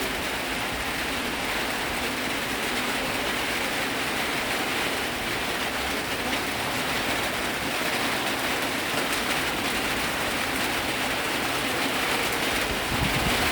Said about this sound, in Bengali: উত্তরের দিকে আছি, মেঘলা মেঘলা, কিন্তু এতটা বৃষ্টি, মানে সব জায়গায় বৃষ্টি হচ্ছে।